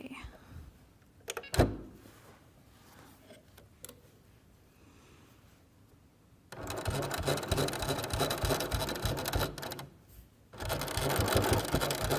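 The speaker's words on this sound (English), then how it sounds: "So we're gonna sew along this black line and we're gonna do the same thing on this side." An electric sewing machine stitches along a line on a fabric triangle pencil case, running in two loud sustained bursts with a brief pause between, after quiet handling noises and clicks.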